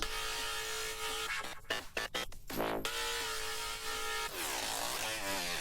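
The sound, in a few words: song processed through exciter send, saturated upper harmonics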